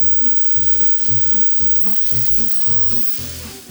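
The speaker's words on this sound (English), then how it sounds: "I'm just going to keep cooking this over medium heat until my onions start to get a little bit translucent and soften up just a bit." Onions cooking in a pan over medium heat for deer liver pâté, a steady close sizzle and frying crackle with rhythmic stirring scrapes pulsing through it, no voices.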